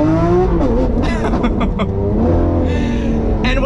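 A Lamborghini Aventador Ultimae V12 revs loudly and close, with rising engine pitch broken by abrupt gear shifts that bark and crackle, alone with no talk.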